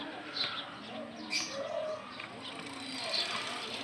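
Pigeons coo softly in a few low calls amid faint chirps at a racing pigeon club loft, fairly quiet outdoors.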